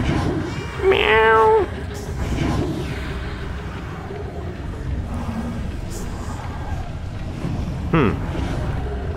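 A cat meows clearly in the ghost-detective game Murdered: Soul Suspect, set in a psychiatric ward, with one drawn-out meow early and a shorter one near the end over a windy ambient background.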